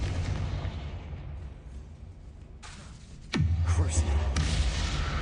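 Spell blasts of Confringo in the Hogwarts Legacy video game burst with a sharp impact and a deep booming rumble that lingers, heard over a steady game background, with a second fainter pop shortly after.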